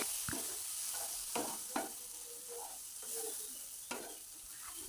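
Tomatoes cooking down with chilli powder and turmeric in a frying pan, with a soft, quiet sizzle and a few separate spatula scrapes and knocks. The sound is low and sparse, with no speech.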